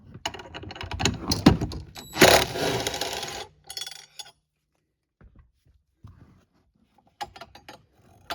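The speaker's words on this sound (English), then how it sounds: "Now remove that 12mm head bolt right there, holding the bracket down." A ratchet wrench clicks and scrapes as a 12mm head bolt holding the 12-volt auxiliary battery bracket is loosened on a 2023-2025 Toyota Prius, busy mechanical rattling at first, then sparse quiet taps with silent gaps.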